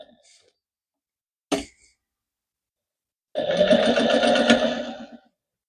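A sewing machine runs in one steady burst of about two seconds while stitching a baby taggie blanket, preceded by a brief clunk and otherwise quiet, close and fairly loud.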